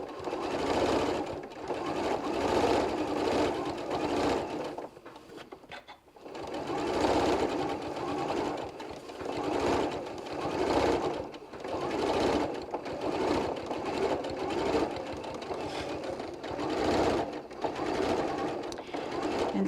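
A sewing machine stitching an adult bib clothing protector, a steady close mechanical whirr and needle chatter that runs in long bursts with a short pause to pivot, loud and alone without talk.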